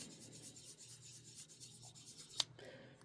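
A 6000 grit sanding sponge wet-sands a foggy HO scale model locomotive window, a faint, soft rhythmic rubbing close up, ending with one sharp tiny click.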